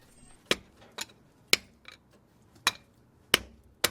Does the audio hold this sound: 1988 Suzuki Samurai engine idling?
no